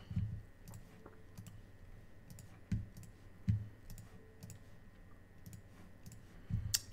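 Sharp mouse clicks repeat in quick bursts while a video game turn plays out, close and crisp against near silence, with no talking.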